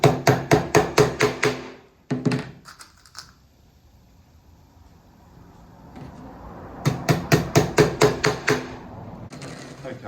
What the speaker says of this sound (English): If you give them a good tap with the hammer